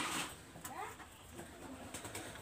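Pakistani high flyer teddy pigeons cooing softly in short, faint, broken calls. The coos sit under a steady background hiss.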